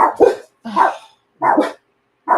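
Dogs bark in four sharp, loud, separate woofs spaced roughly half a second apart, close by and with nothing else heard between them.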